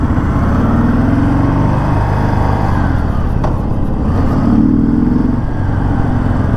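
Harley-Davidson Dyna motorcycle engine rumbling steadily up close, a loud, continuous low-pitched exhaust drone with slight swells in revs and no talk.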